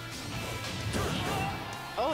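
A down smash attack in a Super Smash Bros. tournament match, heard as a crunchy hit amid busy game effects and crowd noise, with commentators talking over it.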